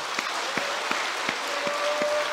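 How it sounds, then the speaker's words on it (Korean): Steady applause from a congregation at an Easter joint worship service in Sinhyeon Church, Geoje, filling the whole stretch, a dense patter of clapping with a few sharper claps standing out. "하나님 앞에 영광에 감사의 박수로 하나님 앞에 영광 돌리겠습니다"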